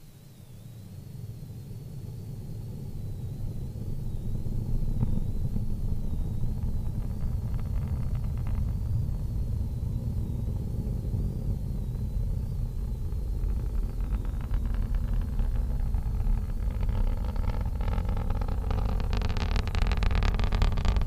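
A SpaceX Falcon 9 rocket with Merlin 1D engines climbing away after launch, a deep continuous rumble that swells and stays steady, with faint crackling building toward the end.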